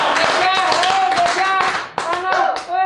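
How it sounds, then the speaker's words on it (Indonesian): Several hands clap in a quick, scattered burst while people talk and laugh over it, fairly close. "Tepuk tangan dulu."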